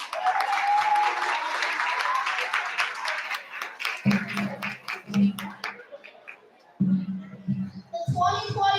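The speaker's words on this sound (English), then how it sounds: "Please give him a round of applause" Audience at a Black History Month program clapping for a fourth-grade student speaker: steady clapping for about three seconds, thinning into scattered claps, with a few low thumps and faint voices afterward.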